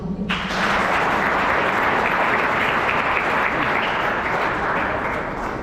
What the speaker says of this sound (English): I want to ask everyone to give another round of applause for the class valedictorian, Brother Justin Jefferson Bosa.